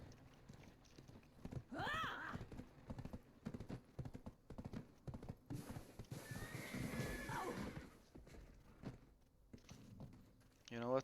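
Horse in the Black Desert Online video game, whinnying loudly and clip-clopping with its hooves in a steady rhythm, with a voice talking over parts of it.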